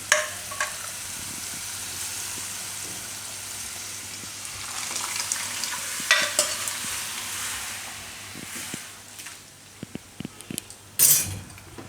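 Green urad dal going into a simmering gravy in a Gujarati home kitchen, with soft bubbling and stirring, a few spoon clinks and a brief louder scrape near the end, all fairly quiet with no talking.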